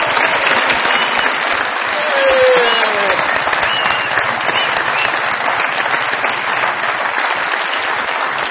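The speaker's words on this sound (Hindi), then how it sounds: "तालियां प्लीज।" Studio audience applause at a comedy show in Pakistan, a dense, steady wash of clapping that carries on for several seconds with no one talking over it.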